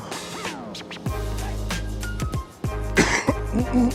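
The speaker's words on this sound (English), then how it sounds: "Sorry for the cough." A person coughing and clearing their throat in a few harsh bursts, close to the microphone, with short gaps between them.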